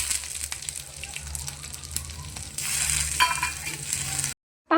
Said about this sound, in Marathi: तर आता याच्यामध्ये मिरच्या फ्राय करून घेऊया